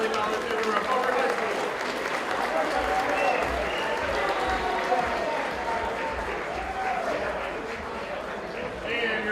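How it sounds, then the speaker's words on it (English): An audience at an esports state finals awards ceremony for a Valorant competition applauds steadily for several seconds, a dense patter of clapping with some crowd voices mixed in. "One more round of applause"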